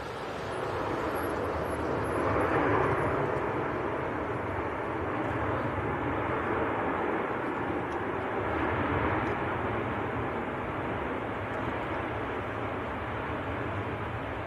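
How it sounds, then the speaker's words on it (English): A KLM airliner from Amsterdam, a Boeing 737-800, lands at Manchester Airport with a steady broad jet roar that swells gently twice as it passes, moderately loud and unaccompanied by voices. "Now next to land, just about to touch down actually,"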